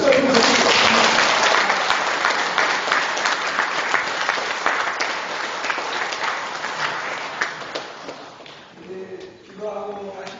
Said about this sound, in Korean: 우리 한번 박수 한번